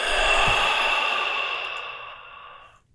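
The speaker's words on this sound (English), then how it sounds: "Exhale out of your mouth." One long, slow exhale out through the mouth during a yoga breathing exercise, close and breathy, fading gradually over about three seconds with no talking.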